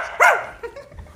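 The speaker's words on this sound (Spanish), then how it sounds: "Puedo ladrar, mira." A dog gives one sharp, close bark, followed by a couple of softer, shorter yips.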